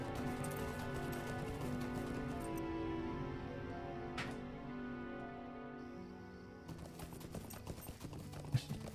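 A horse gallops in Lord of the Rings Online, its rapid clip-clop hoofbeats running steadily under a droning game music bed, moderately quiet, with a brief swoosh midway and the hooves growing busier near the end.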